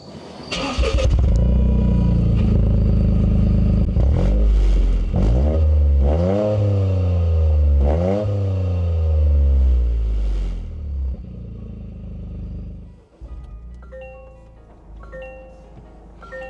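Car engine cranks and starts, then revs up several times with rising and falling sweeps, loud and close, before settling to a steady idle, with no talking.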